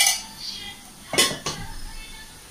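A metal tempering pan knocks and clinks twice as it is set down and handled in a home kitchen, two short sharp clatters close by in otherwise quiet surroundings.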